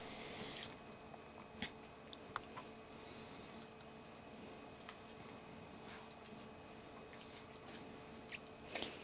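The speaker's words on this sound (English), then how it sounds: "Don't chew the Chihuahua's toys." A dog chewing on a Chihuahua's toys indoors: soft, intermittent gnawing and squishy bites with occasional sharp clicks, faint and close, with no talk.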